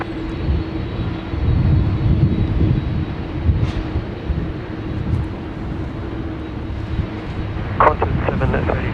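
An aircraft moves about at Sydney Airport, a steady distant engine rumble with wind noise, and a brief voice near the end.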